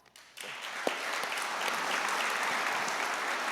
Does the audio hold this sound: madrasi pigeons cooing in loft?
no